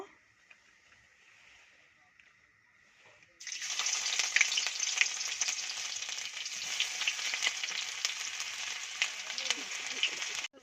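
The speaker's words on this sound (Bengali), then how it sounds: "রসুনগুলো ভালো লাল লাল করে ভাজা হয়ে গেছে।" Chopped garlic and ginger hit hot oil in a wok and burst into a loud, steady sizzle after a quiet start, frying continuously and close by to the end.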